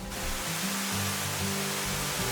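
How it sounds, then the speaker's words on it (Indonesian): Water of the Subik Tuha waterfall, about 25 meters high, pours down in a steady, broad rushing hiss that stays even throughout, with a low rumble underneath and no voices. "Terlebih air yang jatuh dari ketinggian ini membentuk percikan embun yang mengenai tubuh dan wajah bagi setiap pengunjung yang berada di sekitarnya."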